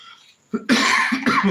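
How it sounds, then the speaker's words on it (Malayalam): A person coughs while cooking a traditional coconut and pineapple payasam: one short hack, then two longer, harsh coughs close to the microphone. "സോറി സോറി ചുമ പിടിച്ചോട്ടോ"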